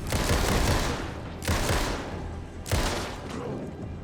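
Rapid bursts of gunfire in the video game Alan Wake 2, three loud volleys of dense shots each fading before the next, with no talking over them.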